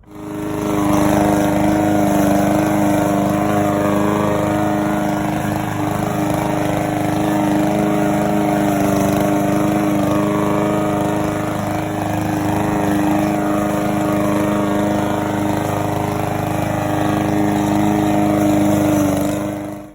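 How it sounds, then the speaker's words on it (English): Lawn mower running steadily while cutting grass on a home lawn, a loud close engine drone with a constant pitch that starts, holds for the whole stretch and fades slightly at the end, no voices. "looks like it's time to mow"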